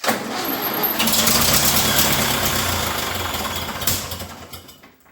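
A Ferguson TEA20 tractor engine cranking and struggling to start after a bad carburetor and fuel system repairs, a loud close grinding churn that runs for several seconds and then fades out without catching.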